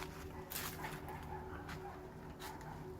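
A small dog barks and yips in short bursts, a few sharp calls spread across a quiet moment, fairly close, with no one talking.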